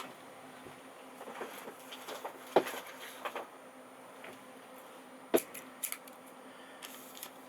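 Scissors snip into plastic McDonald's 2015 Pokemon toy packaging in faint, sparse clicks and crinkles, with two sharper cuts standing out against a quiet room hum.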